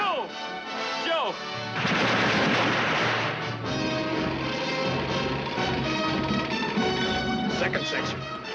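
Battlefield gunfire in a war film about tanks, a dense rattling barrage of automatic fire and crashing blasts that stays loud and continuous, with shouted voices over the clamor.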